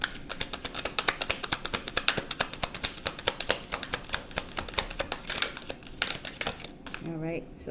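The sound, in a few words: shuffling tarot cards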